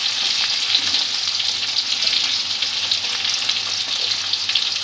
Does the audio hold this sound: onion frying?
yes